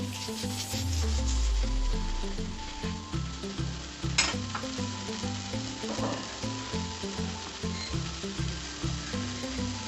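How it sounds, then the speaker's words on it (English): Corn bread mixture with salt and sugar being stirred in a hot pan, a steady sizzle under repeated rhythmic scraping strokes of the spoon, close and moderately loud with no talking. "add sugar, mix it well now."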